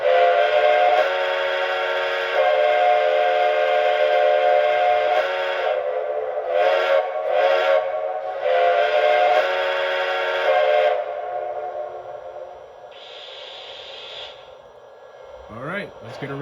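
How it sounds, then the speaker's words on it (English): A Lionel Legacy Western Maryland No. 6 Shay model steam locomotive's sound-effect whistle blows shrill in long sustained blasts broken by short toots, loud and near, fading out toward the end. "Now how about the whistle?"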